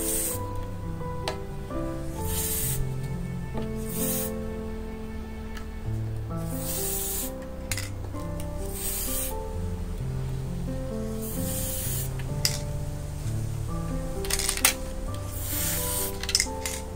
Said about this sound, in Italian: bomboletta spray